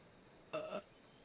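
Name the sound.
burp in the video game Skyrim Enderal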